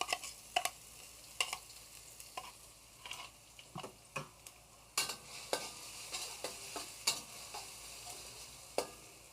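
Garlic, shallot and ginger stir-fry in hot oil, a soft continuous sizzle broken by frequent scraping and clacking strokes of a spatula against the pan.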